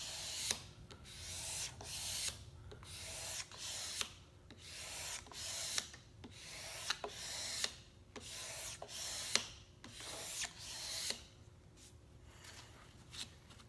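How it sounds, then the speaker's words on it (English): A blade with a handle scrapes grain filler off sapele wood veneer in steady back-and-forth strokes, about a dozen soft, rasping passes close by and fairly quiet, with no talking. "I'll take the blade with the handle and put a little more pressure on it."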